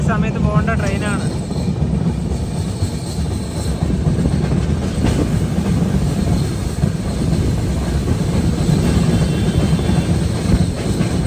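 The Aronai Express, a long-distance Indian train, rumbles steadily along the rails with a loud, continuous roar and faint clatter throughout.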